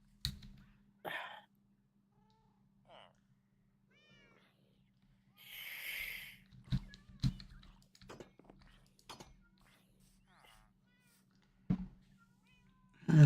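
A house cat meows a few times at close range between quiet pauses, with soft rustling and handling noises in a quiet room and a low steady hum underneath.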